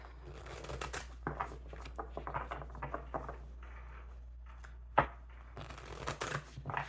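Tarot cards are shuffled by hand in a run of soft, quick riffles and flicks, close and quiet, with one sharper snap midway.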